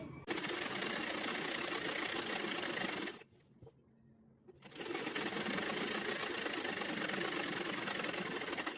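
A sewing machine stitching a salwar, running in a fast steady whirring drone that stops briefly for about a second and a half in the middle and then resumes at the same pace, close and continuous.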